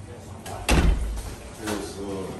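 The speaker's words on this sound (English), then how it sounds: "Open the door for dog." A door is opened to let a dog in, a close thud and rattle of the door followed by softer bumps, with voices in the background.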